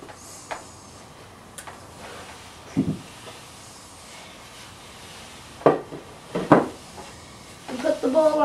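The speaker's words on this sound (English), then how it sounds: "put the bowl on top of it" A bowl is placed over pizza dough on a kitchen counter, producing a few soft knocks and clinks spaced over several seconds against a quiet room background.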